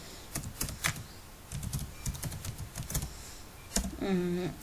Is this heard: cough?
no